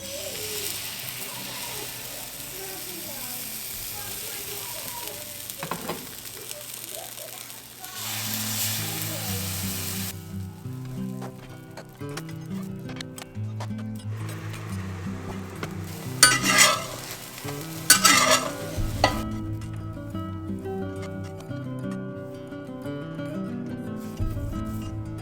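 Mini banana and chia seed pancakes fry in butter a few at a time, giving a steady soft sizzle with occasional louder bursts of utensil and pan clatter.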